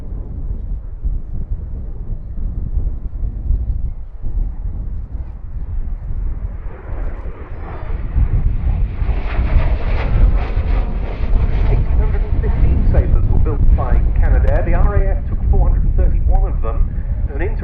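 A Canadair Sabre Mk.6 jet with its Orenda engine roars past at an air display at Duxford, a broad rumbling engine noise that swells louder midway, with someone commentating over it throughout.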